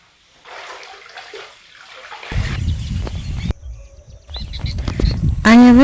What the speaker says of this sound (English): I have water in 2 basins, one for the first wash and then one for a rinse.